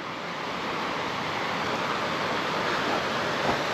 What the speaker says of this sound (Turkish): Nehrin yanında yürüyoruz vallahi, mis gibi. Şırıl şırıl geliyor ses.